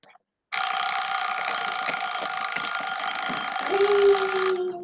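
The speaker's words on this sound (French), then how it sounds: "j'ai fini un petit peu avant le minuteur. Ça va sonner bientôt." A kitchen timer alarm rings loudly and continuously for about four seconds in a home during cleaning, a steady electronic buzzing tone with a faint voice-like sound near the end.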